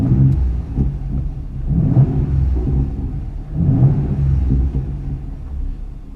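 A Ford Raptor with a 3.5L EcoBoost engine and VR Performance exhaust revs with its exhaust valves closed, heard from inside the truck as a muffled rumbling drone that swells in two rev blips.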